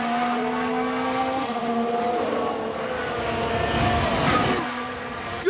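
Formula 1 race cars in the F1 Manager 2022 video game roar past with sustained engine whine that shifts pitch as they accelerate, with a brief tire-squeal edge near the end.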